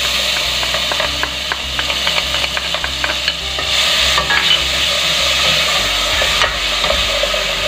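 Onion sautéing in oil in a pot for a shrimp and vegetable soup, a soft continuous sizzle under scraping and stirring of a spoon, close and steady without speech.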